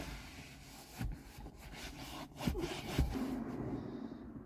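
A Volkswagen Bora car part is wiped dry with a microfiber cloth, giving quiet, continuous rubbing and scuffing with a few slightly louder strokes, close and faint, with no talking.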